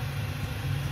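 A 220 V generator set engine runs steadily after being restarted, a continuous low droning hum with a slight buzz, even and unbroken with no talk.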